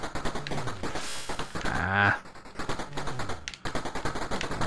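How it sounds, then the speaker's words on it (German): Rapid bursts of gunfire in the Atari 7800 shooter Alien Brigade (1990), dense rattling volleys running nearly continuously with a brief pause midway, loud and close. "Vielleicht sollte ich die nicht erschießen."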